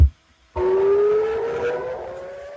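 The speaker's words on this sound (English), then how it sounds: "Sirens sounding over Tel Aviv as a barrage of missiles hit the nation." An air raid siren wails over Tel Aviv during a missile barrage, a sustained rising tone that cuts in after a brief silence and holds steady, loud and alone.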